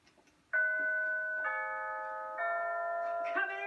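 An electronic doorbell chime with eight selectable tunes rings out clearly after a faint tap, playing a sequence of sustained bright tones that step through several notes and overlap as they fade.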